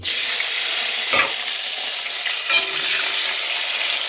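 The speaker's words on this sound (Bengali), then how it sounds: "বেগুনগুলো একটু ভেজে নেব।" Eggplant pieces frying in a pan of hot oil, a loud, continuous close-up sizzle with a couple of brief stirring scrapes, no voices over it.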